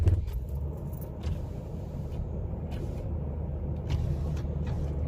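A Toyota Tacoma 4x4 with a 4-liter engine, all-wheel drive, medium-aggressive tires and 241,000 km on it drives along, giving a steady low engine and road rumble heard through an open window, with a few faint clicks and rattles on top.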